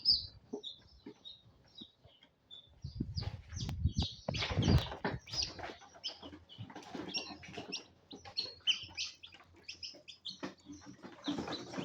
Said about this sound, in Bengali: এগুলো হচ্ছে ফ্রান্সি জাতের মুরগি, যেটা ফ্রান্সি মুরগি বলে